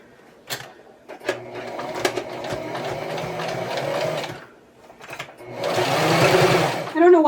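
A sewing machine runs in bursts while stitching a fabric Christmas garland, its motor whirring close by with short stops and restarts, and a person talks in between the runs.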